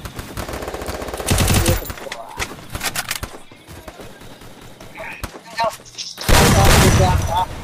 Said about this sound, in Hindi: दुई गोली मारो तुरंत किल।